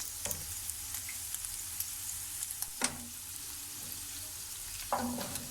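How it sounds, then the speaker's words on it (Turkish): Chopped mushrooms sizzle and fry steadily in a hot pan with oil, with a few scraping stirs and clatters breaking through the constant crackle. "Mantarlarımı tavama atıyorum."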